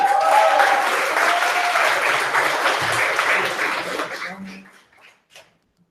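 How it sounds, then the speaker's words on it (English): Audience applause at a maker educators' convening as a speaker comes up, a strong steady round of clapping that thins out and fades to near silence at the end. "Big round of applause"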